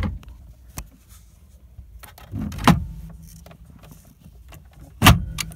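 An aftermarket DND steering wheel is seated onto its quick-release hub in a 2007 Subaru WRX interior, producing two sharp, close metallic clunks a few seconds apart over quiet cabin rustling.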